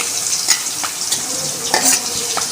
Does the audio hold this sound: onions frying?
yes